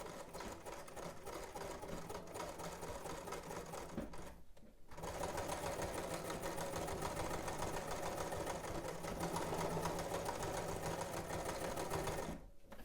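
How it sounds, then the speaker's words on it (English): A sewing machine sews a straight seam at 5/8 inch on a maternity garment, its steady rapid whirring and needle chatter running continuously, briefly stopping near the middle, then resuming at full speed. "We're just making a straight stitch at 5/8 of an inch."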